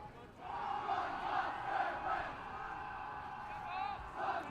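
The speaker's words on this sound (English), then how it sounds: "The SLUH Army's trying to make some noise, but Chaminade's going to respond right back." A high school soccer crowd at a Chaminade vs. SLUH game roars and chants in a sustained, fairly distant swell of many voices, rising and falling slightly.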